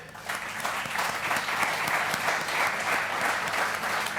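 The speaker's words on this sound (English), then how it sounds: "So a big round of applause for our guys behind the gate." At the 2023 MXGP motocross awards ceremony, a crowd gives a round of applause: steady, dense clapping that carries on evenly for several seconds.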